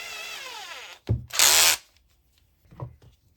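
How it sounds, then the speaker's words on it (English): A power drill bores into a snowboard during a repair. The motor revs in two close bursts, with a loud whining burst in the middle, then stops. A quieter clunk follows. "Drill."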